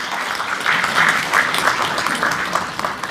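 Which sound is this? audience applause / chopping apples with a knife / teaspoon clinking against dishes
audience applause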